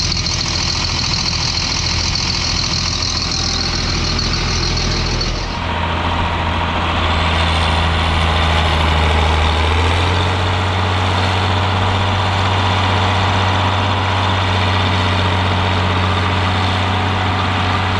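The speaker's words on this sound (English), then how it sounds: "Just a solid lump of a tractor, really is. Sounds a treat as well." A John Deere 4955 tractor engine idles with a steady low diesel rumble, close and loud, its tone shifting into a deeper, heavier drone partway through before settling again.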